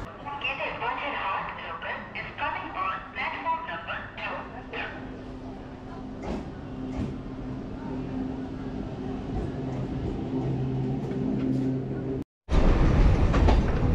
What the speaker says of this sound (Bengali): আমি এখন যে ট্রেনটায় যাচ্ছি সেটা হচ্ছে মাঝেরহাট হাসনাবাদ গ্যালোপিং লোকালে করে